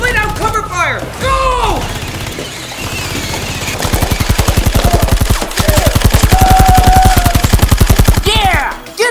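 Toy blasters fire long rapid bursts of cover fire during a Christmas battle, loud and close, with excited shouting at the start and end.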